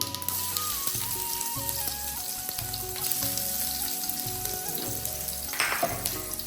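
Half a bay leaf and a little chopped onion frying in oil for thin masoor dal, a steady close sizzle with light stirring scrapes and occasional clinks, no talking.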